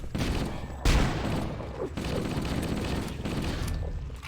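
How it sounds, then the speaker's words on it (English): Rapid gunfire and explosive blasts in the video game Halo: Combat Evolved, a dense continuous barrage with a sharp louder burst near the start, loud and close throughout. "it's an exploding gun"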